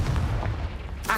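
Confringo blasting spell cast in Hogwarts Legacy, a booming fiery burst that rumbles steadily through the short moment and ends with a sharper crackling flare.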